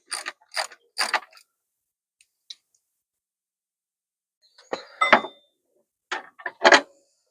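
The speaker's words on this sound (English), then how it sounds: "12mm socket and spanner. Need to undo these." A 12mm socket ratchet undoes bolts while pannier rails are being fitted to a 2025 Royal Enfield Classic 650. There are close, crisp bursts of clicking ratchet strokes separated by silent pauses.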